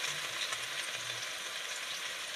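Potato and eggplant fry in a pan at a village kitchen, giving a soft, steady hiss close by. The sizzle continues without pause and no one speaks.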